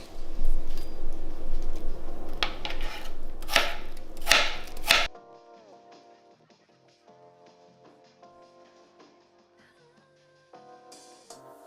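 Onions being chopped on a cutting board with a knife: rapid, crisp chops ring out close and loud for about five seconds, then give way to soft background music with no talking.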